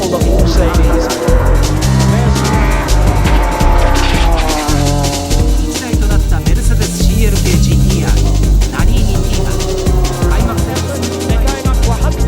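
A Mercedes-Benz CLK GTR race car driving through a chicane in the rain, its engine loud and close, revving up and down with tire noise throughout.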